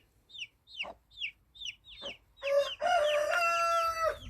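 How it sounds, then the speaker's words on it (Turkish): A rooster crows loudly and close by after a run of short, rhythmic clucks. "Horozumuz da ötüyor."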